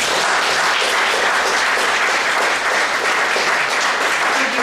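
An audience at an election hustings gives sustained, dense applause for the candidates, loud and even from start to finish with no voices rising above it.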